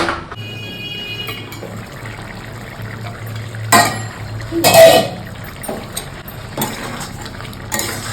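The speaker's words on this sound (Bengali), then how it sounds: "এই আইসক্রিমের এটাকে আমি একটু ভালো করে এখানে ধুয়ে নিই" Water splashes and pours while an ice cream mould is rinsed under a tap, with a couple of louder gushes partway through over a steady low background hum.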